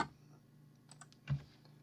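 A single key press on a computer keyboard, the M key, gives one soft, close click in a quiet room. Fainter keystrokes come just before it, with no talking.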